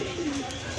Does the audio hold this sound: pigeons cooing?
yes